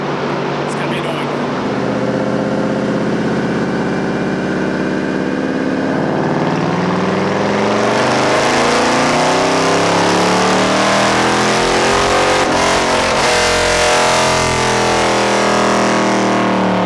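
A Camaro SS running E85 with an axle-back exhaust and no mufflers revs loudly and close by, its engine note rising and falling in long sweeps over a rough, rumbling idle, while people talk underneath.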